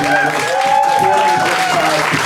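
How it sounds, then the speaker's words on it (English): An audience at a comedy show at Arcade Comedy Theater claps in a loud, steady wash of applause that carries through the whole stretch, with a few whoops or voices rising above it. "Give yourself one other round of applause."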